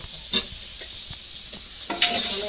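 Potatoes being stirred in a pan in a village kitchen, a spoon scraping in a few bursts over a steady sizzle of frying, close and alone with no talk.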